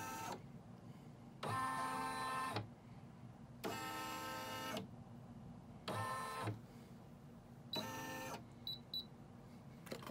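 An embroidery machine stitches out a square box outline in brown thread, running in several loud bursts of rapid mechanical whirring with brief quiet pauses between them.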